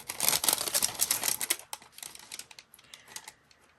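Scissors snip and rustle through Tim Holtz paper ephemera up close, with a dense run of crisp cutting and crinkling that thins into sparse, quieter snips.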